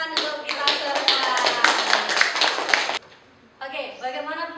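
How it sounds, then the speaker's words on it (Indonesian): A classroom group claps rhythmically and briskly for about three seconds, close and lively, then stops briefly before a few voices speak. "tepuk tangan untuk kita semua"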